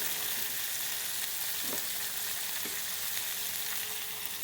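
Continuous even sizzle of food sautéing in peanut oil in a pan, with a couple of soft thuds from a utensil.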